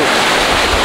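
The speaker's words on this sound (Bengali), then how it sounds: "আর আমার নিচে হচ্ছে জল আসছে" Water rushes steadily beneath a spot beside a waterfall near a river, a loud continuous wash with wind buffeting the microphone throughout.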